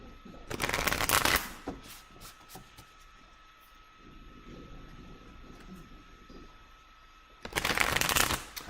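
Quick riffling bursts of a card shuffle, one near the start and another at the end, with quiet handling and faint background hum in between.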